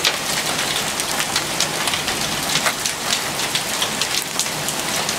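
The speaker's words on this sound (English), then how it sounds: "Oh God, it's throwing hail right at my feet." Hail storm pelting down on a June evening in Virginia, a dense, loud patter of countless impacts with sharper clicks scattered throughout, steady and close, with no voices.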